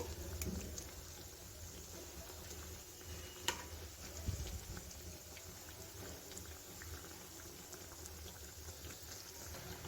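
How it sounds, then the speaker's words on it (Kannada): Badusha frying in oil over a low flame makes a soft, steady bubbling hiss, faint and even throughout, with a couple of light clicks partway through. "ಇದನ್ನು ಮಂದ ಉರಿಲೇ ನಾವು ಚೆನ್ನಾಗಿ ಎಣ್ಣೆಯಲ್ಲಿ ಫ್ರೈ ಮಾಡಿ ತಗೋಬೇಕಾಗುತ್ತೆ"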